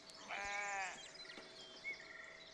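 Sheep at a farm in the city-building game Foundation give a single clear, fairly faint bleat, with a quieter call following in a calm outdoor soundscape.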